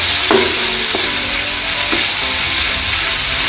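Pork and kimchi stir-frying in a pan, a steady broadband sizzle that runs throughout with a few brief clinks or stirring knocks near the start and middle, close and fairly loud, with no voices.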